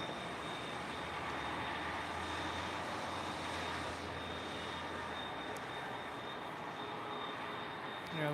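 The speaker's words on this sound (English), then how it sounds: "those are also CF6 engines, like we heard on the 767 earlier. Very whiny." An airliner with whiny GE CF6 jet engines roars at LAX, a loud, steady broadband rumble topped by a thin high-pitched whine that holds throughout.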